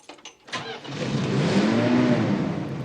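An old 1957 Ford Fairlane truck engine cranks briefly, catches and starts, then settles into a loud, steady rumbling rev close by, with no talking over it.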